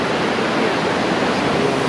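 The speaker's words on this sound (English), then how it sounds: "Fair bit of water. It's going pretty quick." Fast-flowing river water swollen after heavy rain rushes steadily at close range, a dense, continuous broadband roar with no pauses or other sounds.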